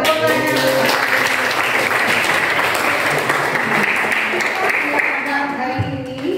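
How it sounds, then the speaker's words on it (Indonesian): A vocational high school class breaks into steady, dense applause lasting several seconds, with voices audible beneath the clapping before it tapers off. "Iya, tepuk tangan."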